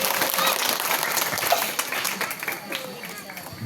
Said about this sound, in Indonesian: tepuk tangan buat Bapak dan Ibu Kepala Desa dua-duanya hadir